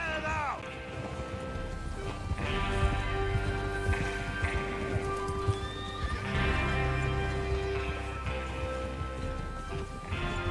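Horses gallop with steady clip-clop hoofbeats and repeated loud neighs in the video game Red Dead Redemption 2, under ongoing voices and background music.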